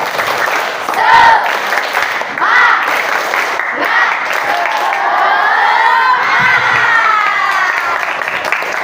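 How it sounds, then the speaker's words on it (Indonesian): A crowd of junior high students at a school event does a rhythmic spirited clap chant, loud and continuous, with shouting and cheering voices mixed throughout. "Ayo semuanya kita tunjukkan tepuk semangat dari beketal yang paling heboh"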